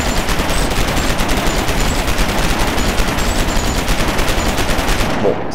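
Weapons fire in the Starforge video game, blasting and breaking blocks, a dense continuous stream of rapid shots and crunching impacts throughout, loud and steady until it stops abruptly near the end.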